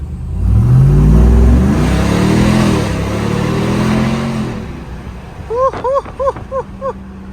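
A Ram TRX with a Carven R-Series exhaust pulls hard, its deep engine roar rising through the gears as it accelerates, loud and close, then easing off before a burst of short chirping sounds near the end.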